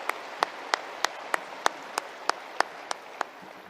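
Even, rhythmic clapping from a conference audience as the Armenian Prime Minister addresses state body staff: about a dozen sharp claps at a brisk, steady pace, fairly close, with no talk over them.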